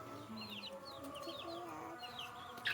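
Chickens, including a rooster, cluck and warble softly in a quiet yard, with faint higher bird chirps scattered over a low steady background.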